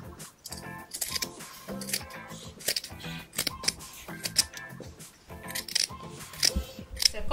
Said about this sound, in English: So I'll get my scissors and then start cutting.